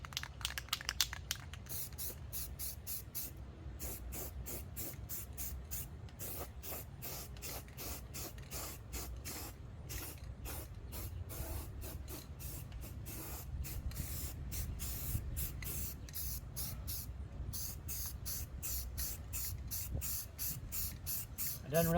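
Aerosol spray paint goes on as another coat over welded rust-repair metal, heard as a long run of sharp, close hissing bursts with short gaps between them.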